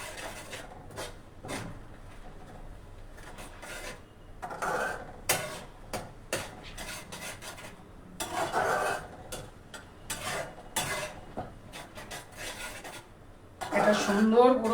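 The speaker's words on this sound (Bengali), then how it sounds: "চিনির সাথে ফুটতে থাকছে" Orange barfi mixture bubbling with sugar in a pan, giving soft repeated rasping and scraping sounds up close, with a spoon occasionally stirring against the pan and short quiet pauses between.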